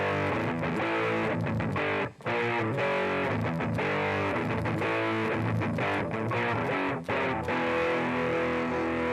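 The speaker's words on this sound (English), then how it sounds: "Now let's try some distortion." Music run through a JavaScript distortion effect, harsh and saturated with dense, gritty harmonics, playing loud and continuous with two brief dropouts.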